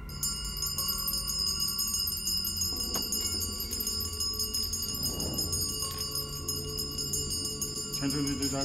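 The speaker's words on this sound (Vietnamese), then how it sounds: "Khi tôi tụng kinh trừ tà, dù có chuyện gì xảy ra vẫn phải rung chuông liên tục." A ritual bell rings without pause during an exorcism chant in a Chinese horror film, a steady, shimmering, high metallic tone over a low murmuring background.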